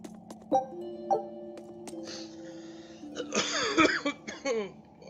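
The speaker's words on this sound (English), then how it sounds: "Sorry I'm coughing in your ears, guys." A few harsh, close coughs in quick succession, following some thin tonal sounds in an otherwise quiet room.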